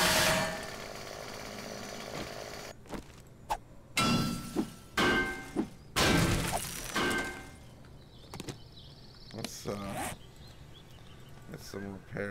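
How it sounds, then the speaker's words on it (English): A chainsaw in the video game 7 Days To Die cuts into metal in several loud, harsh bursts separated by short gaps, each with grinding, rattling edges, plus a few sharp knocks between them. "Chainsaw, not good on metal."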